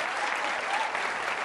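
Audience in a Hindi TV debate studio breaks into applause, a dense, steady wash of clapping filling the whole moment at full loudness, with no pauses.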